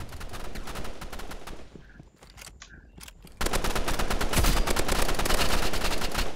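Rapid video-game gunfire from a shooter match, bursts of automatic shots that thin out midway, then return louder and denser in a sustained, continuous stream of fire.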